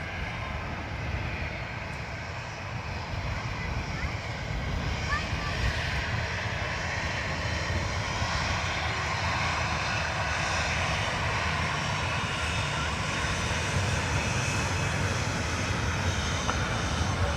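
Airliner engines roar steadily on takeoff at Dublin Airport, a broad continuous rumble and hiss that holds loud for the whole stretch at a moderate distance, with faint voices underneath.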